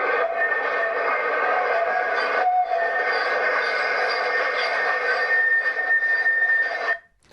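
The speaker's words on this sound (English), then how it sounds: "This is a typical train or tram noise" Train or tram wheels scrape and squeal on the rails in a sustained, shrill, harsh tone, steady and loud for about seven seconds before cutting off.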